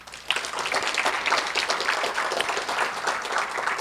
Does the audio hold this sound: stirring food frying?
no